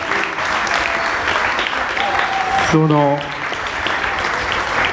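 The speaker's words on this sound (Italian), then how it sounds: "gli vorrei fare un applauso ai genitori" Applause for parents at an Italian basketball club's team presentation, a continuous crowd clapping that runs under someone speaking into a microphone.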